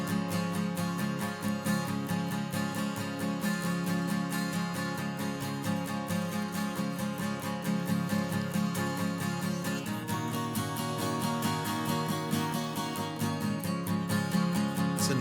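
Two pre-mixed acoustic guitar tracks strum together in a full, bright, steady rhythm, playing continuously throughout with no voices over them.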